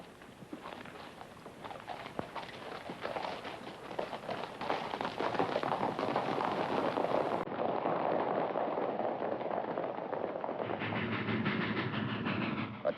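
A train rumbles along steadily with a rhythmic clatter of wheels over rail joints, fairly close and continuous throughout.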